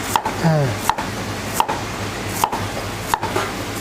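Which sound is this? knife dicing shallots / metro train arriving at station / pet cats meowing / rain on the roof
knife dicing shallots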